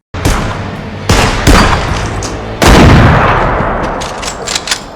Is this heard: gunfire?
yes